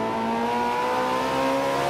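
Race car engine at Hockenheimring in the Forza 7 video game, a steady, loud, high-pitched engine drone held at speed throughout with no talk.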